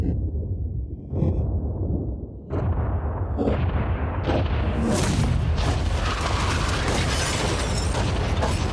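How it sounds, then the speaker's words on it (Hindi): A yacht is blown up with explosives: a sequence of sharp booming blasts building into a sustained, roaring, crackling explosion that stays loud to the end. "उड़ा दो।"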